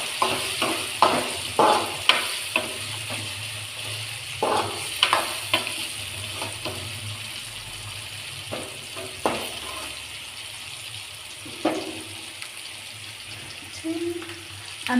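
Chopped cauliflower fries in a pan while being stirred, a soft sizzle under repeated scraping strokes of a spoon at an uneven rhythm, close and moderately loud.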